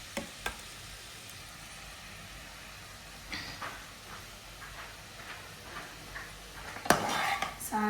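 Chicken and sausages fry in a pan with a steady soft sizzle, broken by occasional clinks of a utensil against the pan, and no talking.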